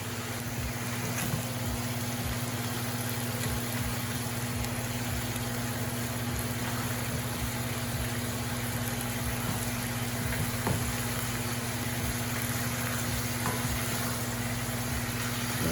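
Beef steak browning in a pan, a steady continuous sizzle with a low constant hum underneath and scattered small pops, moderately quiet and unbroken throughout with no talk.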